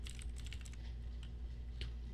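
A computer keyboard tapped in short bursts of key clicks while a command is entered in Excel's immediate window, close and soft, with no talking.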